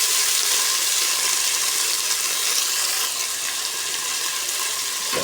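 Onion, garlic and tomato sizzle steadily in a hot pan while being stirred, a dense continuous frying hiss with faint scraping, close and uninterrupted, no voices.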